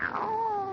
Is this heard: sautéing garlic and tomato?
no